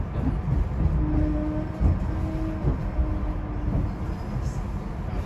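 A SEPTA commuter train rolls into North Philadelphia station on the Chestnut Hill West line, a steady low rumble with faint steady tonal squeals of wheels and brakes throughout.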